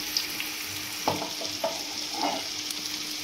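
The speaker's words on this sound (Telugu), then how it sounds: "ఆయిల్ వేడెక్కిన తర్వాత ఒక్కొక్క ముక్క నిదానంగా వేసుకోవాలి." Fish pieces fry in hot oil in a home kitchen, a steady close sizzle with a few soft plops and stirring clinks as pieces go in, without any voices.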